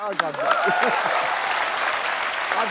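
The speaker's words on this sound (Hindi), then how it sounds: "माय ब्रदर कपिल शर्मा के लिए जोरदार तालियां" A studio audience at a televised comedy show breaks into sustained, dense applause, loud and steady throughout, with a voice calling out over the start.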